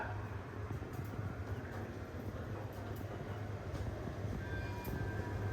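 Thai express train No. 85, running from Bangkok to Nakhon Si Thammarat on the southern line, rumbles steadily at Chaiya station in the morning, a dense, continuous rolling drone of wheels and carriages with no speech.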